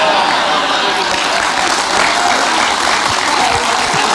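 Loud, dense applause from a large crowd, steady and sustained throughout.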